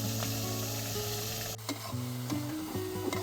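Prawn malai curry sizzles and bubbles in a pan over an outdoor cooking fire in the Sundarbans forest, with a continuous frying hiss and occasional stirring scrapes, no voices.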